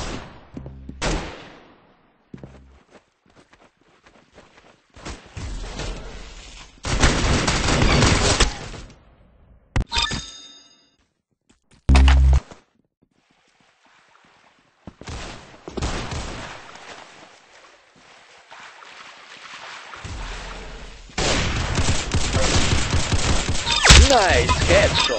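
Video game gunfire ending in a headshot, with sharp shots and dense bursts of fire in separate loud stretches broken by near silence, close and harsh.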